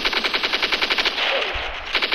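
Rapid automatic gunfire in an online shooter game rattles off in quick, evenly spaced bursts, loud and close, with a short ragged pause before the firing resumes.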